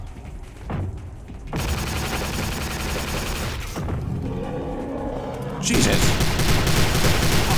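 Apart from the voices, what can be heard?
gunfire from enemy turret in video game Prey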